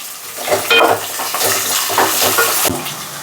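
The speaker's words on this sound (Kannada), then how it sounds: "ಹಾಗಲಕಾಯಿ ಉರಿಬೇಕಾದ್ರೂ ಒಂದು ಒಂದು ಸ್ಪೂನ್ ಎಣ್ಣೆ ಹಾಕೋಬೇಕು" Steady sizzling of bitter gourd frying in oil, with repeated scraping and stirring sounds from a utensil against the pan, close by.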